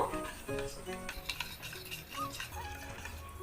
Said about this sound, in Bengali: সমস্ত দুধটা দিয়ে দেওয়ার পর ভালো করে একবার মিশিয়ে নেব